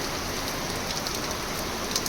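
Heavy monsoon downpour on farmland in Gujarat, a dense, continuous hiss of rain with no breaks and no voices.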